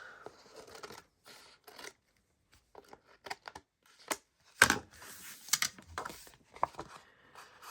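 Scissors trimming a sheet of painted paper, a sparse series of short crisp snips and paper rustles with quiet gaps between, close and fairly soft, no voices.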